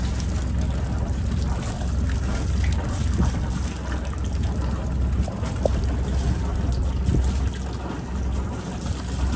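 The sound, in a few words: boat engine put into gear while manoeuvring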